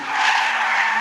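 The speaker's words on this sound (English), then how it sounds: "you can just hear the shriek of this engine" A Porsche 911 GT3 on Cup 2 tyres at the damp Anglesey circuit gives a loud, sustained high-pitched screech, steady for about a second with no talk.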